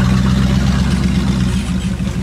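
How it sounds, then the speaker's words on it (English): A Chevy Tahoe's V8 engine and exhaust chug with a low, steady rumble, close and continuous, with no talk over it. "You hear that V8 and that exhaust?"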